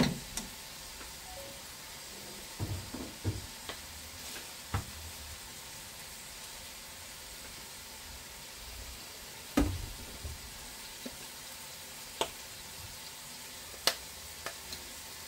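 Ground pork sizzles quietly in a pan as it is stirred, a soft steady fry broken by scattered clicks and scrapes of the utensil against the pan.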